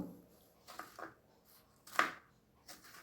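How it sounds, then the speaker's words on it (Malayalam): A knife slices ginger into small rounds in a quiet setting, with a handful of soft, irregular cutting taps against a board. "വട്ടത്തിൽ ചെറുതായി തന്നെ കട്ട് ചെയ്തെടുക്കാം"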